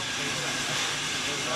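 Steam locomotive on the Lima-Huancayo railway in Peru, a loud, steady broadband hiss of escaping steam, continuous and close throughout with faint rumble beneath.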